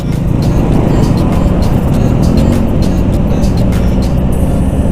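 Dense road traffic in a jam near a clock tower on the way to a Red Cross fair, heard from a Wave 100 motorbike: a loud, continuous roar of many engines with passing cars and no pauses.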